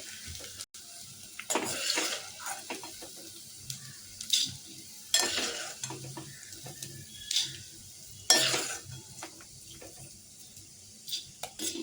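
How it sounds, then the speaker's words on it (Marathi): Edible gum frying in ghee sizzles steadily for a long stretch, broken by repeated bursts of scraping and stirring in the pan as pieces are moved and lifted out; close and fairly loud, with no talking. "अशा प्रकारे आपला डिंक मस्त तळून झाला आहे"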